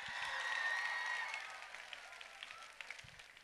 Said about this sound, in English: Please give a huge round of applause for all our speakers today.